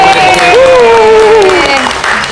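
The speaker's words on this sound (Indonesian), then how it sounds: "Tepuk tangan dong buat teman-teman." Applause from an audience in a room, loud and continuous clapping with a voice speaking over it, the talking rising in pitch across the middle of the stretch.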